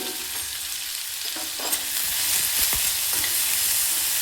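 Onions and dal being stirred in a pan for an Andhra-style dal, with a steady close frying hiss and sizzle. Utensil scrapes come and go over it, and no one speaks.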